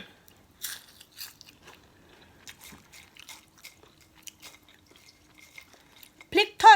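Crunchy bites and chewing of homemade crispy fried chili peppers, a series of sharp close crunches spaced through the clip with louder bites at the end, under light talk.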